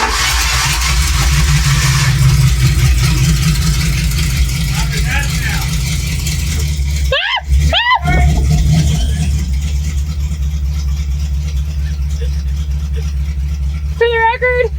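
A Ford Ranger engine runs after a push start with a modified exhaust, revving steadily in a low, throaty drone close by, while voices talk over it.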